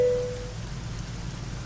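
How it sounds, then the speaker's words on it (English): Heavy rain pours down in a steady, dense hiss, close and continuous, with a brief tonal sound fading out at the very start. "Can we step in here so the rain isn't so loud"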